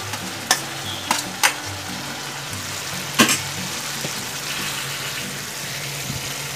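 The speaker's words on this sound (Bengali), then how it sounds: "মশলা এবং পেঁয়াজ আদা রসুন সব কিছু একসাথে ভালো করে কষাবো" Masala with onion, ginger, garlic and potatoes frying in a pan, a loud steady sizzle broken by a few sharp spoon knocks and scrapes against the metal, no one speaking.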